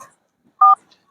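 A single short phone dialing tone sounds clearly, close and alone in otherwise near silence.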